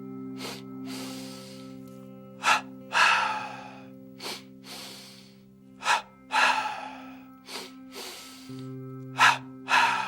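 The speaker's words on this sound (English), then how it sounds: "When I practice the inhalation, it's through the nose. When I practice the exhalation, it's through the throat or the open, expanded throat." Yogic breathing for a pitta stretch-and-relax practice: repeated sharp nasal inhales alternate with longer, rushing open-throat exhales, close and loud over a steady low drone.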